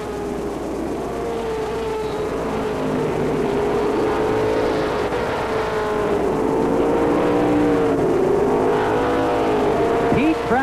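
Pro stock race cars at Lee Speedway in 1989 roar around the oval, with engine notes rising and falling continuously and loudly as the pack circles, and broadcast commentary mixed in.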